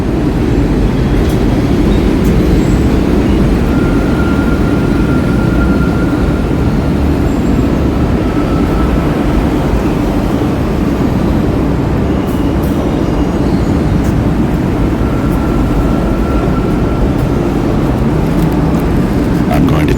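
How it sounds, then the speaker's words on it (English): Steady, loud roar of subway trains near Queens Plaza, a continuous low rumble with faint squeals, filling the whole stretch without a break. "seemingly never-ending roar of the subway trains means that we're approaching Queen's Plaza"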